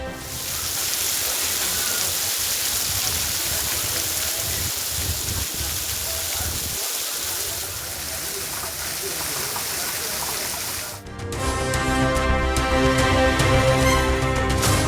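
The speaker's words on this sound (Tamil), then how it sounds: "வானிலை மாற்றத்தால் தமிழகத்தின் சில பகுதிகளில் மழை." Heavy monsoon rain pours steadily in the Nilgiris hills of Tamil Nadu, a dense, continuous hiss for about eleven seconds before music abruptly takes over.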